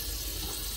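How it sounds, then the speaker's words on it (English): The cold water tap in an Autocruise Pioneer Monet motorhome runs with the water pump on, giving a steady hiss of flowing water. It stays constant and fairly quiet throughout the short stretch. "So turn the tap to the right hand side and pull the water through, which is going to be your cold side first."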